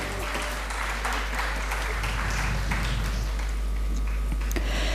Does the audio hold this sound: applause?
yes